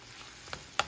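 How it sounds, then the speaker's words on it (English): Mushrooms frying in a pan with kosher salt: a soft, steady sizzle with two sharper crackling pops near the end, close and fairly faint. "cook these mushrooms down."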